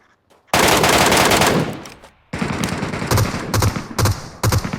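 Loud, close automatic gunfire in the mobile battle royale game PUBG Mobile, Metro Royale mode, with a long sustained burst followed by repeated shorter volleys, and no voices.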